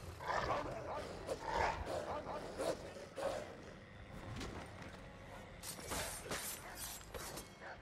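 A dog in the video game Assassin's Creed III gives short barks and yips amid game sound effects and talk, fairly close and moderately loud.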